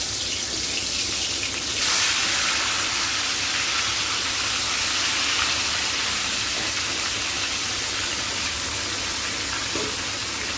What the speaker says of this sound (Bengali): এখন আমি একটা একটা করে মাছ ভেজে নেব।